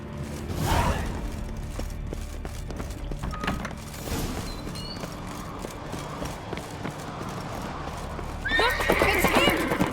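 A horse whinnies loudly near the start and again at the end, with steady hoofbeats and game ambience running underneath, in The Witcher 3.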